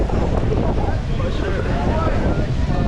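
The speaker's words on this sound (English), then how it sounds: "It is windy." Strong wind buffets the microphone near a waterfall, a constant loud rushing roar with water and surf-like wash underneath and no clear speech.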